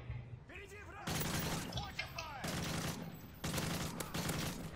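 Bursts of AK rifle gunfire in the Call of Duty Modern Warfare 3 Survival co-op mode, loud repeated volleys separated by short gaps, with voices talking underneath.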